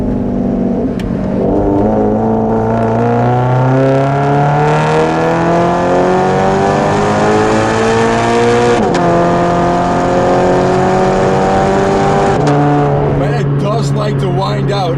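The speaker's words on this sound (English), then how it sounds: "That rev matching is pretty cool." A 2017 Toyota 86 860 Edition with manual transmission revs hard through several rising, stepped engine pulls with rev-matched downshift blips, loud and close throughout, with no talk over it.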